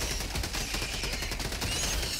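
Rapid automatic gunfire from the Helldivers 2 video game hammers away in a fast, steady stream of closely spaced shots, loud and continuous with no pause, heard alone without talk.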